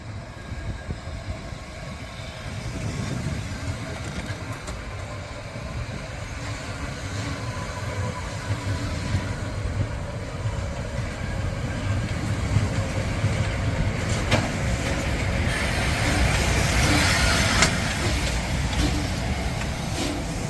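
A steady, full rumble inside a passenger train on the line from Poznań to Wolsztyn, with wheels running over the rails and a faint rhythmic clatter that swells louder toward the end.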